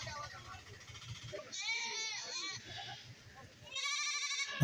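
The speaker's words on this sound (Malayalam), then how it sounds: "ഇനിയും ഒരുപാട് ആടുകൾ ചന്തയിൽ വിൽപ്പനയ്ക്ക് നിൽക്കുകയാണ്" Goats bleating at a busy livestock market, several wavering calls rising over a murmur of distant voices and crowd noise.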